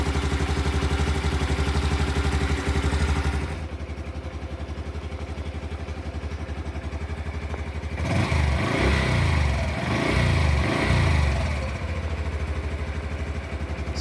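Honda Super Cub C125 motorcycle engine idling close by with a steady low putter, briefly quieter, then revving up before settling back to idle.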